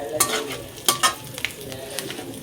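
Whole garam masala and bay leaf crackle in hot tempering oil, a continuous sizzle broken by several sharp pops and spatters.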